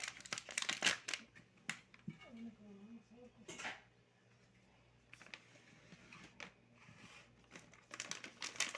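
Plastic zip-lock bag packed with dahi bhalla crinkles and rustles in scattered close bursts, with quieter gaps and faint handling noises between.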